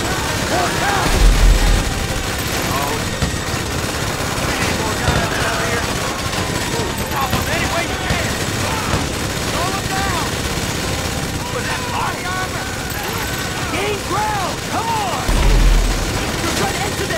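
Gunfire in GTA 5 during the Paleto Score heist against the army: sustained, dense bursts of automatic weapons with booms mixed in, running throughout with shouted voices over the top.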